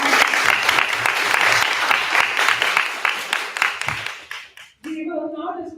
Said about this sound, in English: So let us give another round of applause.